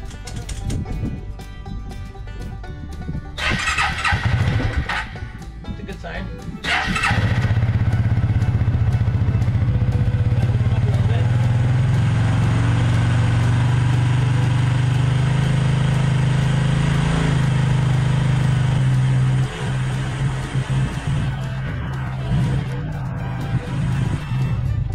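A Suzuki King Quad 300 ATV with a rebuilt carburetor cranks and sputters for several seconds, then catches and settles into a loud, steady idle, close by, before the engine note drops near the end.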